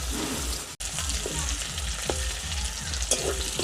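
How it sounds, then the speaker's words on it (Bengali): Fish frying in hot oil in a pan gives a steady, close crackling sizzle throughout, with a few brief louder pops and clicks of cookware standing out above the hiss. "মাছটা ভাজা হয়ে গেছে এবার তুলে নেব"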